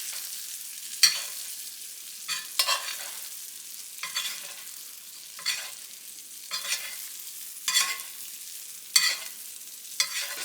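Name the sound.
New York strip steak sizzling while being basted in the pan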